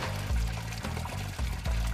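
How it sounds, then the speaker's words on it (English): Water gushes from a card-operated water ATM dispenser at a community water point in Ghana, a steady close pouring stream with a slightly pulsing, splashing rhythm and no talking. "Then you see the water coming."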